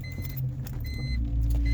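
BMW M3 E46 starting up, a low engine rumble building from the start and settling into a steady idle, with faint jangling keys and clicks near the dash; no talking.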